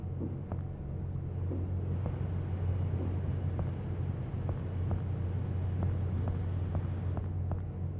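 Ship engine room ambience in the Seafarer video game: a steady low mechanical drone with a constant hum, punctuated by faint regular metallic ticks, continuous and unbroken.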